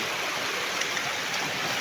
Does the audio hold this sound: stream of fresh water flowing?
yes